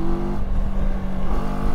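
A CFMOTO 700MT motorcycle engine runs close and loud with a steady low rumble and a brief throttle blip partway through, and no voices are heard.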